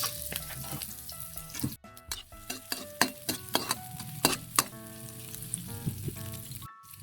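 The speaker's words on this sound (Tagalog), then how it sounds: "Manggigisa na tayo. Lagay natin yung bawang, saka sili." Garlic, chili and onion hit a hot pan for sautéing, bursting into loud sizzling with repeated clanks and scrapes of a utensil against the pan, close up and without talk.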